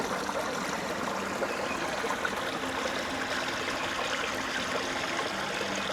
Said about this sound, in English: It's just a cute little waterfall.